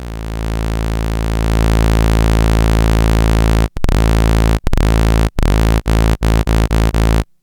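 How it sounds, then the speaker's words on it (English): A bright, buzzy Behringer Pro 800 synthesizer saw-wave tone on both oscillators drones steadily, then gets chopped into short bursts that come faster and faster. "let's take a saw wave on both"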